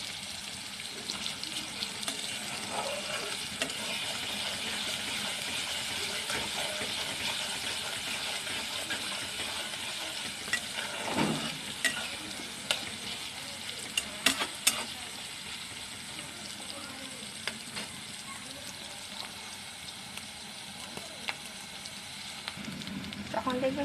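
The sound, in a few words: sliced onions frying for chicken roast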